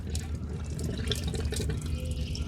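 Water pours steadily out of an opened RV holding tank drain, a close, continuous splashing gush with dripping and gurgling detail throughout.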